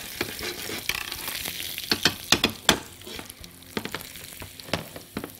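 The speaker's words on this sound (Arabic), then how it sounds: "هنا هحط الزبده واحط معاها نقطه من الزيت عشان ما تتحرقش" Butter melting with a drop of oil sizzles in a frying pan for prawn butterfly, a steady close hiss broken by sharp clinks and scrapes of a utensil stirring, with no voices.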